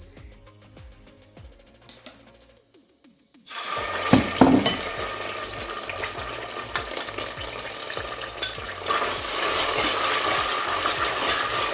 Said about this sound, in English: So we fry the tomato stew base.